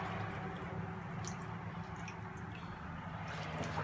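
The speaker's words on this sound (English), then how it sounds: "I just dip them in that water." Chemi Pure filter media bags dipped and squished in water while cleaning an FX6 aquarium canister filter, giving soft faint sloshes and drips over a steady background hum.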